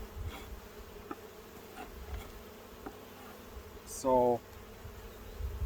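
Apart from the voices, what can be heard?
honey bees buzzing in a hive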